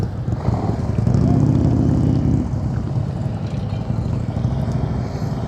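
A motorcycle engine drones steadily during slow-speed riding practice, with its pitch rising as the throttle opens for a couple of seconds before easing back to a constant hum. The engine is fairly loud and there is no talk over it.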